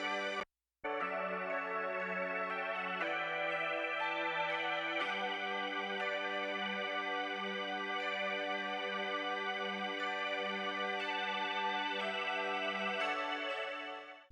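A sustained high synth chord from the Arturia Jupiter-8 V preset Dual Spindle, rich and shimmering, holding with slight shifts in voicing after a brief opening cut, fading at the very end; no voices.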